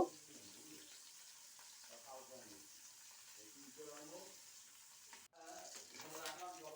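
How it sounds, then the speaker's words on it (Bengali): Bata fish sizzle gently in hot oil in a wok, a faint continuous frying crackle with soft stirring and scraping in a quiet kitchen, and a brief clatter near the end. "আরও চারটে মাছ চাপিয়ে দিয়েছি এইগুলো ভাজা হওয়া পর্যন্ত অপেক্ষা করব"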